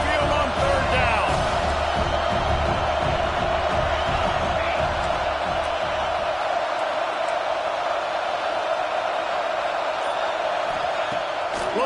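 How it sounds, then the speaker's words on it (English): Alabama Crimson Tide football crowd roaring on third down at Saban Field, a steady, loud wash of stadium noise that stays constant for the whole stretch, with no distinct breaks. "The Tide crowd rolling noise down onto Saban Field on 3rd down."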